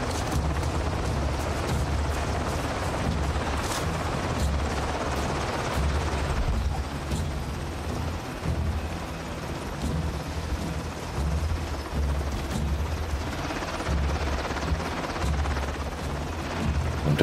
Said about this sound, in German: Mit dem Bogen kann ich doch bestimmt auch den Heli wegballern.